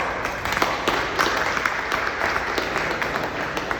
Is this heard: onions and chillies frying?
no